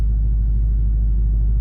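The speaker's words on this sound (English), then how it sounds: "Okay, yeah, that car's gone." A car rolling past on a nearby road, heard as a steady low rumble that holds through the whole moment with no voices over it.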